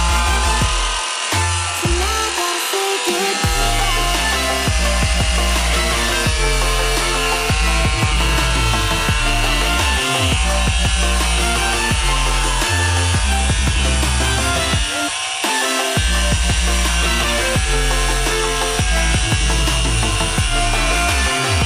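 Grinder working on metal while making DIY vents for a G35, a loud continuous harsh whine and grinding that fills the whole stretch with slight dips in pitch as the tool bites.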